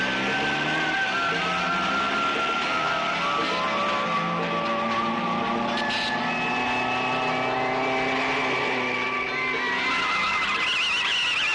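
A car's tires skid and squeal through a turn, a sustained, fairly loud screech with engine noise beneath, continuous for over ten seconds with no talking.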